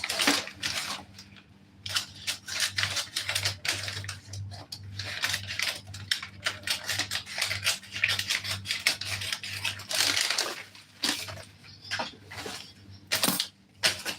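Scissors cutting through fabric for a budget-made wedding dress, a dense run of close, raspy snips and rubbing strokes with brief pauses, loud and continuous over a low steady hum.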